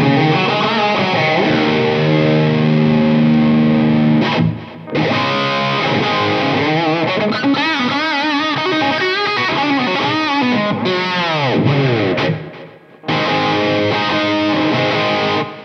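An electric guitar plays through a Fender Hammertone Reverb pedal with distortion, loud sustained chords and sliding bent notes washed in reverb, stopping briefly twice before resuming.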